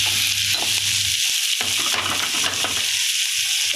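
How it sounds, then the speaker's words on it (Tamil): Onions sautéing in a pan for prawn masala, a loud continuous sizzle with intermittent stirring scrapes, close up and without talk. "நல்லா வெங்காயம் வதங்கணும்"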